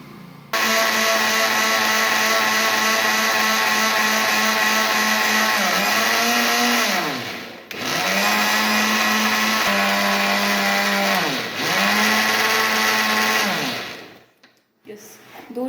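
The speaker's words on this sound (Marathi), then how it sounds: "आणि याला आता ग्राइंड करून घ्यायचं आहे" A blender grinds a flavoured milkshake at full power in three long loud bursts, each pitch dipping briefly as the motor slows between runs, then cutting off near the end.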